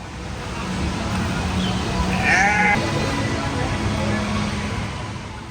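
Sheep in a pen let out a drawn-out bleat in the middle, with fainter bleats nearby over a steady hum of background noise and distant traffic.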